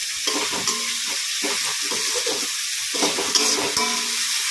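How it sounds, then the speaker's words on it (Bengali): Spice masala with chili powder is stir-fried in hot oil for an egg do pyaza curry: a steady close sizzle with repeated scraping strokes of a spatula through the pan, no voices. "যতক্ষণ এই মশলা দিয়ে তেল না বেরোবে ততক্ষণ আমি কষতে থাকবো।"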